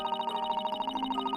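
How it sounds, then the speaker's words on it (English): A music box chimes in The Great Ace Attorney, a steady run of bright plucked-comb notes ringing clearly over a sustained tonal backdrop, close and fairly soft, with no talking. "That is a beautiful music box."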